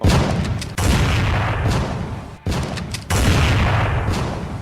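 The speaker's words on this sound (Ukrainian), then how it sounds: "А як ця гармата може стріляти так багато разів?" Rapid bursts of booming cannon fire in a film rumble in repeated volleys, each barrage dense and loud, separated by brief gaps.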